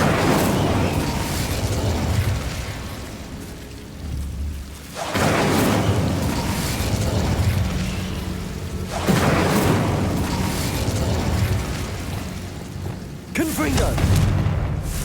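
Incendio fire spells blast in Hogwarts Legacy on Xbox Series S: three loud, roaring bursts, each rising suddenly and then sustaining over a dense bed of game sound.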